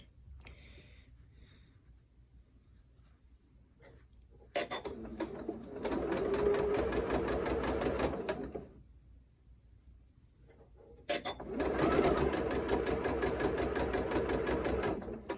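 A sewing machine stitches curved quilt fabric pieces for a Drunkard's Path block with a 1/4 inch foot, running in two steady mechanical whirring bursts of a few seconds each, separated by a quiet pause.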